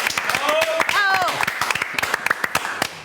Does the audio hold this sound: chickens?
no